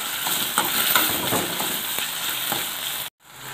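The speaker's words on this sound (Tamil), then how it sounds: "கட் பண்ணி வச்சுருக்க தக்காளியை போட்டுக்கலாம். கொஞ்சம் வதக்கணும்." Chopped tomatoes sauté in a hot pan for fried fish gravy, giving a steady, close, crackling sizzle with faint stirring ticks that cuts off abruptly near the end.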